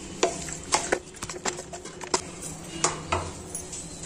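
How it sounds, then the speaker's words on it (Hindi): A metal spoon clinks and scrapes against a pan while a keema and peas mixture is stirred, giving a steady run of sharp taps and soft scraping at close range, with no talking. "इसे हम मिक्स कर देंगे।"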